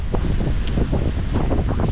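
Blustery morning wind blowing outdoors beside a creek, a steady broadband rush with gusting swells and buffeting against the microphone, loud and continuous throughout with no talking.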